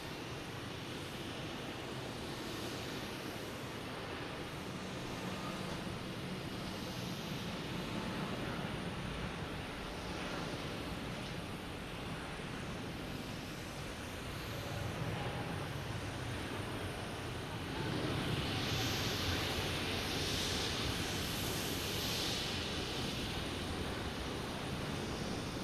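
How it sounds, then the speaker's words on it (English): A British Airways airliner takes off from runway 15 Right at Boston Logan in the evening: a distant, fairly faint continuous jet rumble and hiss that swells slightly toward the end. "British Airways taking off on 15 right."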